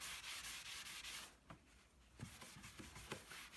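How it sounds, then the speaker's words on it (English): A brush rubbing wax onto chalk-painted wood, a soft scratchy swishing in quick repeated strokes, close and quiet, with a short pause before the strokes resume. "I'm just continuing to use the brush to just rub out any of those marks."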